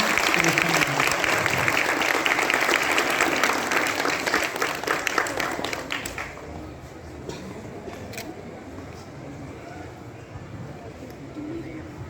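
Audience applause at the closing ceremony of an inter-collegiate kho-kho tournament, loud crowd clapping for the team that fades after about six seconds into quieter room noise with a few scattered claps and background voices.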